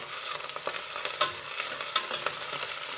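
Onions, green chillies, mint and coriander frying and being stirred in a pan for cooker chicken pulao, a continuous close sizzle broken by repeated scraping strokes and a few sharper clinks of the spoon.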